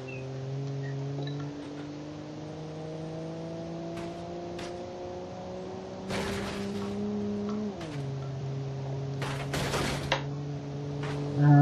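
Car engine in BeamNG.drive running steadily at a low, quiet hum, pitch rising slowly then dropping as revs change, with a few brief knocks and clunks, no talking.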